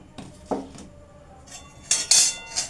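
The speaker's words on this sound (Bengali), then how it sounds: "গ্যাসটা আমি এখন জ্বালাচ্ছি, কড়াইটাকে বসিয়ে দিলাম।" A metal wok is set down on a gas stove in a home kitchen while cooking sago milk pudding (sabu payesh), giving a few close, sharp metallic clanks and clinks with quiet gaps between them.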